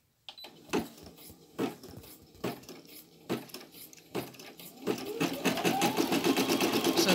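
Brother Innovis F480 sewing and embroidery machine stitching, opening with several short separate bursts of clattering needle action, then settling into a continuous rapid mechanical whir, close and moderately loud.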